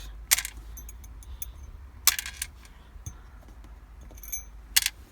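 Loose bolts from an Audi TT are dropped one after another into the car's small ashtray, giving several sharp, close metallic clinks and rattles separated by quiet gaps.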